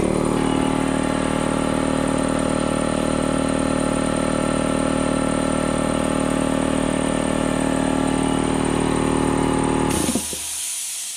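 Harbor Freight air compressor running, a steady loud droning motor hum with a dense mechanical whine, heard close and alone, cutting off abruptly near the end.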